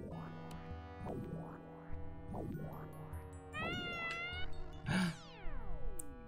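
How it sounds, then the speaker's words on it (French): A cartoon cat in a Smurfs video game lets out harsh meows each time it jumps, about five rising-and-falling yowls in a row over steady game music, the last one sliding down in a long whine. "dès que le chat il saute, il fait un miaulement dégueulasse"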